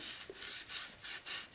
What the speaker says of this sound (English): you just take a scrubby, kitchen scrubby thingy, like this, and you can just lightly go over it